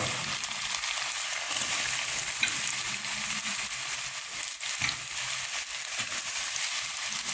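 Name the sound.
tofu sizzling in a pot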